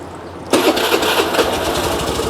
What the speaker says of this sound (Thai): มาสตาร์ทรถกันดี กว่า